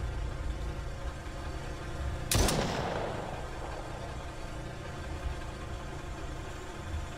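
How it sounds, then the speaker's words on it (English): A single sharp weapon blast cracks out at close range in The Brookhaven Experiment, followed by a short decaying rumble over a steady low background hum. "Guess the machine gun's alright."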